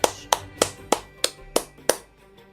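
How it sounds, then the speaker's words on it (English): Hand claps in the video game Wuthering Waves: seven sharp, evenly spaced claps in about two seconds, crisp and close, alone without talk. "Everyone, a big round of applause to welcome the Rover and Miss Carlotta on stage."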